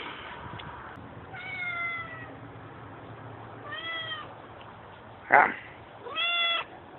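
A cat meows three times in drawn-out, moderately loud calls spaced a couple of seconds apart, over a quiet room background with a brief sharp noise between the second and third.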